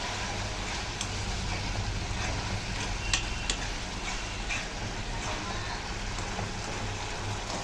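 Dry fish and egg curry stirred in a pan, a steady wet sizzling hiss with scattered soft ticks and scrapes of the spoon, continuous and close with no talking.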